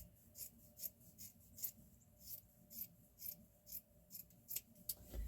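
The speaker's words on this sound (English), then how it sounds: "sleeves, I think I'll go ahead and cut the side, up the side here." Scissors snip through a thrifted wool sweater sleeve, a quiet, close series of about a dozen crisp cuts in an uneven rhythm over a soft room hush.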